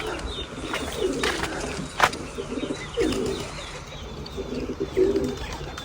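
Pigeons on a pigeon farm cooing in repeated soft, throaty phrases, several close calls spaced about a second apart, with a brief sharp chirp and light background noise.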